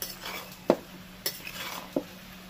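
Ridge gourd and spices are stirred in a pan, with a few sharp scrapes and clinks of a metal spoon against the pan over a faint background hiss, quiet and sparse with no talking.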